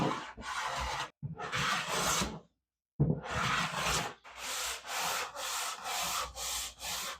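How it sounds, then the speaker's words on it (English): Rhythmic rasping strokes of a number 4 hand plane and sanding across a live-edge wood slab, repeated steadily with short pauses between passes, loud and close. "took a number 4 plane and knocked everything flat before sanding it smooth"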